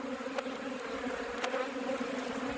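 Honeybees from an opened, disturbed hive drone in a steady, faint swarm hum, with a few individual bees zipping close past now and then.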